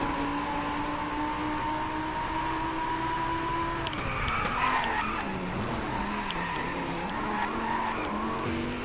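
A car drifts with sustained tire squeal in the Driveclub racing game, the howl of the tires running over a steady engine drone, wavering and rising through the slides.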